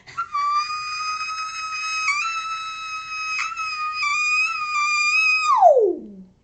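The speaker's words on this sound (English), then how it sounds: "which is like a whistle note" A very high, pure sung whistle-register note held for several seconds with slight wavers, then sliding sharply downward before stopping; clear and close, no other sounds.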